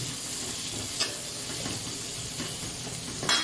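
Boneless bagoong sautéing in a pan gives off a steady hissing sizzle with a few soft stirring scrapes and a light clatter near the end, close and without speech.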